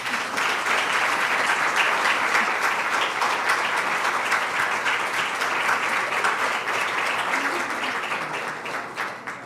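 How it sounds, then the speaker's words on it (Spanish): An audience at a literary conversation on journalism and literature gives a warm round of applause for author Julia Navarro, dense and steady, filling the room for nearly ten seconds without letting up. "Un aplauso, por favor."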